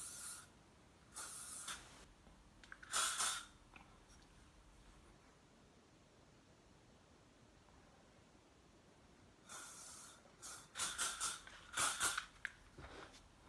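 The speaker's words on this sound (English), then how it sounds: "I then take my hairspray, and I have the Elnet Satin, the extra strength for coloured hair" Elnet Satin extra strength hairspray for coloured hair hisses onto hair in short close bursts, a couple of quick sprays, a pause, then a run of several rapid spurts.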